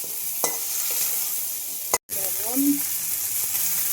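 Mustard, cumin and green chili paste frying in oil for a vegetable stalk curry gives a steady, close sizzle with stirring scrapes, one brief spoken word and a momentary dropout.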